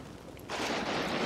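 Machine gun fire in the war game Combat Mission, a sudden dense burst that breaks out partway through and rattles on loudly to the end.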